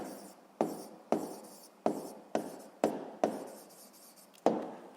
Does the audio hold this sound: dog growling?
no